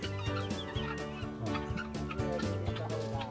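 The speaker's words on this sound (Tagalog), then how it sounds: "Si Kobe yun, manok ni Jun, si Kobe" Chickens and guinea fowl cluck together in a close, busy flock, a steady run of overlapping clucks and calls with no pauses.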